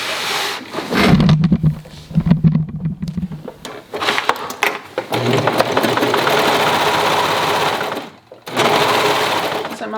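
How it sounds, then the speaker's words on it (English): A serger stitches a seam while its knife trims the allowance on a lined tank top, running in loud close bursts with brief stops, a voice talking over the stitching. "So I'm allowing my serger to trim off 1/8 of an inch."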